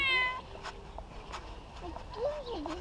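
Domestic cat, apparently unwell, meowing a few times, thin rising and falling cries, fairly close and moderately quiet, with soft background noise between calls.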